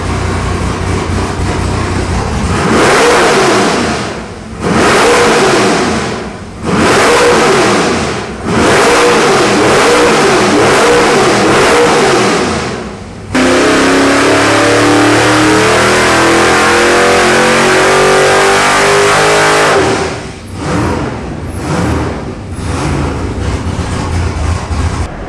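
Chevy LS 496 cubic-inch (8.1L) X-Ram V8 making about 690 horsepower, revving hard on a dyno with repeated loud bursts, then one long sustained pull climbing steadily in pitch before a few more blips.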